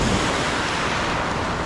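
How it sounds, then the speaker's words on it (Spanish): Ocean waves wash over the pebbles and rocks of a beach in Manzanillo, Colima, making a loud, continuous hissing rush with no pauses. "Escuchen el sonido que hacen las piedritas al moverse por las olas."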